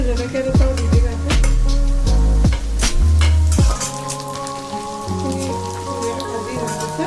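Two green chillies dropped into hot oil with garlic in a pan, giving a steady dense sizzle with crackling pops throughout, loud and close, with no talk over it.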